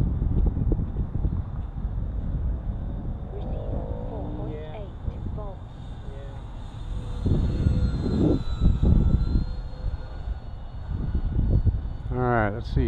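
An E-Flite radio-controlled model airplane buzzes overhead at a steady distance, its electric motor whine shifting in pitch as it banks, with wind noise and someone talking over it throughout.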